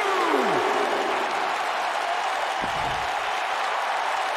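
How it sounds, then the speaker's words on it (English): Arena crowd in the WWE 2K19 wrestling video game roars and applauds steadily throughout, a broad sustained cheer with a brief low thud partway through. "The crowd never gets tired of The Rock's antics."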